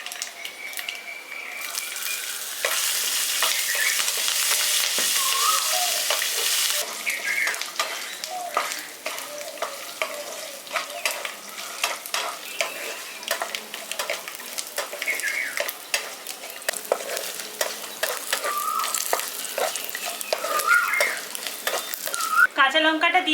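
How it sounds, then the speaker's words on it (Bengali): Green chilies fry with spices for village-style lemon rice while a spoon stirs and scrapes the pan. A loud, continuous sizzle carries many quick clattering stir strokes throughout, with no voices. "কাঁচা লঙ্কাটা দিয়ে দেওয়ার পর ওটাকেও ভালো করে ভেজে নিয়েছি"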